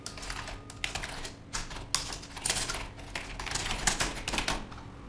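Fast, steady typing on a computer keyboard, a close, fairly loud stream of crisp key clicks and clacks with no talking.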